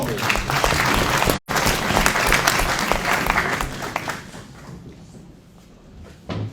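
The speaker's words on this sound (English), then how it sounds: "we have to also give a round of applause for our mass organizations" A crowd applauds at a conference opening ceremony, with dense clapping that holds strong for several seconds, briefly cuts out, then thins and fades away before a last short burst of sound.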